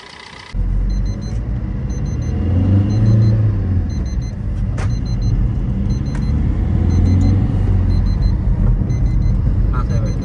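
A 2014 Maruti Swift VDI diesel hatchback pulling in second gear, its engine a steady low rumble rising and falling with acceleration, heard from inside the cabin with no talk.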